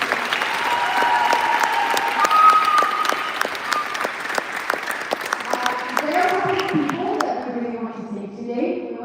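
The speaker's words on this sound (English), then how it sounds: "So let's clap for them one more time because they deserve it." A TEDx audience applauds enthusiastically, dense clapping that holds steady and then thins out toward the end, with a voice speaking as it fades.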